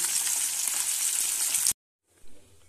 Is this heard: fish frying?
yes